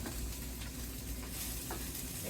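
BBQ pork chops fry in a skillet on a stovetop, giving a continuous close sizzle and crackle with faint shifting and scraping sounds.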